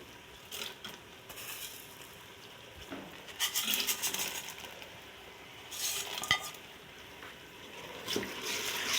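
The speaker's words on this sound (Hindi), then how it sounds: "और थोड़ा सा मैं भून लूँगी।" Green moong lentils are stirred and roasting in a pan, with soft scraping and intermittent spoon clinks over a quiet frying hiss.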